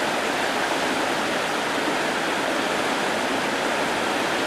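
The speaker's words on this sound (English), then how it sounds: "So that's the rapid that I just paddled successfully that Ian didn't video." A river rapid rushes with a loud, steady roar of white water that stays constant and close throughout, with no voices.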